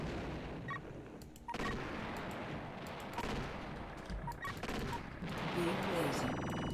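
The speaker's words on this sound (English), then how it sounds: "Blast. Flux missile." Flux missile blasts in the video game Battle Engine Aquila, a dense run of booming detonations and rumbling gunfire layered with continuous battle noise, loud and sustained throughout.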